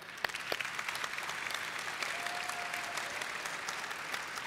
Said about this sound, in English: If you liked Chef Joe and her web app, please applaud for Chef Joe